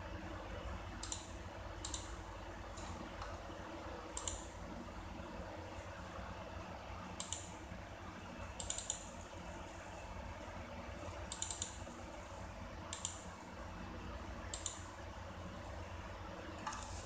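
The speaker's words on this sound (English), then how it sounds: "So if you click here you can type and search" Faint, sparse clicks and short bursts of keystrokes on a computer keyboard at an Ubuntu GNOME 15.04 desktop, spaced irregularly over a quiet hiss.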